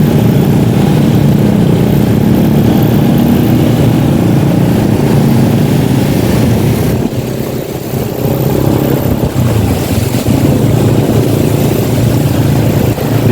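A Honda Wave 100 motorcycle engine runs on a highway in Malolos, Bulacan, giving a loud, steady, close rumble with a constant noisy drone and no speech.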